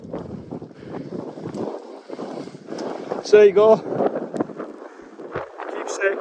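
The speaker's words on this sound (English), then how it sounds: "Sorry about the wind, it's going to get up here." Gusty wind buffets the microphone on an exposed hilltop at Kinder Scout, rumbling and surging beneath someone talking throughout.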